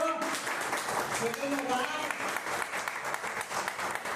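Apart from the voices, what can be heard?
congregation clapping hands in praise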